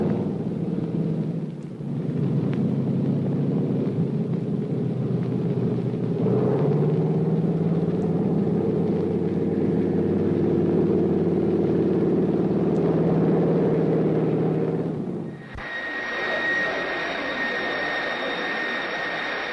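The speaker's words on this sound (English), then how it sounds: "This young man, Bayena Gulilat, is mastering the rudiments of flight at a Washington flying school, studying to be a commercial pilot" Propeller airplane at a Washington flying school, a steady loud engine drone lasting about fifteen seconds, then cutting to a different mechanical hum.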